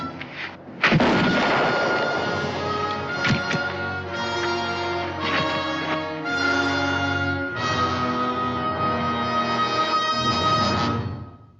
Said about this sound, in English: You wouldn't shoot me, Sully.